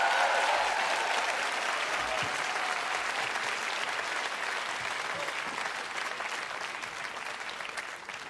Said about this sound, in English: Can you give a round of applause to all the producers who work on Q back in Toronto?